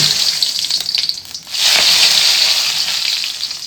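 Spices, onions and chillies hit hot oil and erupt into a loud, hissing sizzle that swells after a brief lull and holds steady, close and without speech.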